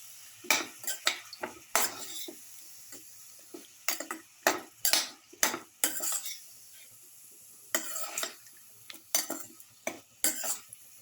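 Metal pots and lids clatter and scrape while a garlic beetroot chicken casserole is covered and handled, with irregular sharp clinks and knocks over a faint sizzle, spread across the clip without any talk.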